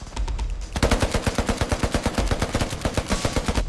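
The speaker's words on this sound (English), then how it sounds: "The Marines switch to automatic fire from the M240V machine gun." M240 machine gun firing long bursts of fully automatic fire, a fast, steady, loud rattle of closely spaced shots that begins abruptly after a brief quieter lead-in.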